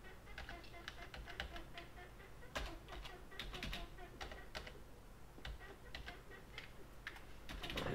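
Computer keys pressed on a PC keyboard, a quiet, irregular patter of clicks and taps in uneven clusters, some sharper strokes standing out, heard close without other sounds.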